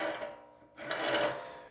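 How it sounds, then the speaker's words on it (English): Metal parts of a sausage grinder rasp and scrape in two short grinding twists as a fitting is unscrewed close by. "So I'm gonna unscrew this."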